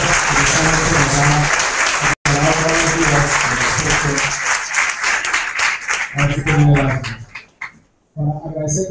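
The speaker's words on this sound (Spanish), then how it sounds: "tenemos un aplauso a nuestro grupo de analistas" A room full of people at a World Asthma Day event bursts into steady, loud applause, with speech over it in stretches, a brief gap, then a fading tail and another burst of clapping.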